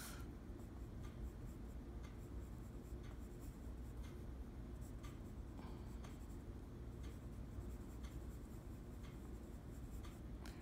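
Coloured pencil shading on paper while sketching a dog's head in profile, a steady soft scratchy rubbing with short repeated strokes, close and continuous over a low background hum, with no talking.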